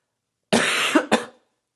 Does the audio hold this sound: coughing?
yes